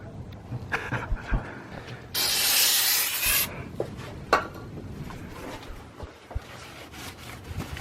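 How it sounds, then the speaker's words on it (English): Someone scrubs and rubs at the throttle body of a Lexus IS350 F Sport with the intake removed, making scattered scraping and clicking, plus a louder hiss of spray cleaner lasting about a second. "might as well clean the throttle body because it gets dirty"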